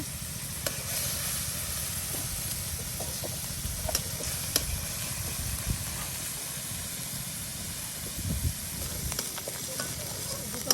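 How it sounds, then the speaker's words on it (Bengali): Ground onion, garlic, cumin, ginger and mustard paste frying together in oil for a village-style dal, a continuous soft sizzle and hiss with scattered stirring clicks and scrapes, close but quiet, without speech. "পেঁয়াজ বাটা রসুন বাটা জিরা বাটা আদা বাটা সরিষা বাটা সকল প্রকারের বাটা একসাথে এই যে দিয়ে আপনার তেলের সাথে সুন্দর করে আপনার ভেজে নেওয়া হচ্ছে"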